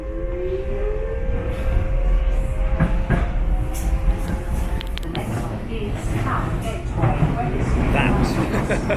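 A driverless Docklands Light Railway train runs along the track in London, a steady loud rumble with rattling wheels and a faint whine throughout, heard from inside the carriage.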